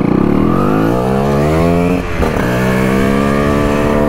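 Moped two-stroke engine running hard at high revs, a loud steady buzzing drone with a brief dip and recovery midway, close by with no talk.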